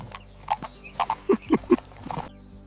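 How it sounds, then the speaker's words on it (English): Horse hooves clip-clop in a quick, uneven series of sharp knocks as a horse-drawn carriage passes through a quiet green city park, close and distinct with faint background hum. "I see a horse carriage."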